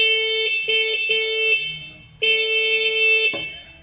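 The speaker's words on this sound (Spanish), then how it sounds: "el claxon funciona." An electric scooter's horn, wired straight to the power supply during a lighting-circuit repair, blares in a steady electronic tone. It comes close and loud as three short blasts and then one longer blast, with brief gaps between them.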